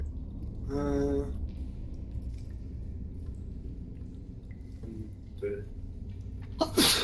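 A person sneezes once, sharply and close by, in a quiet indoor room. Low background hum and a few faint clicks and rustles follow, with another brief noise near the end.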